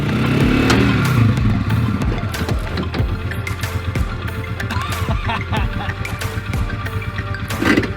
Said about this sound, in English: we're gonna see if Mr. Polaris here can get it up the hill